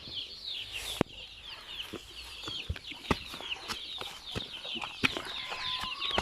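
Native chickens clucking on a farm, several birds making repeated short calls and chirps over a steady background of chatter, with occasional sharper clucks rising above the flock.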